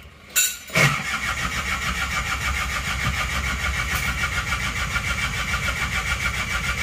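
An Isuzu Panther 2.3 diesel engine cranks briefly and catches, then settles into a steady, rhythmic idle that carries on loud and close to the end.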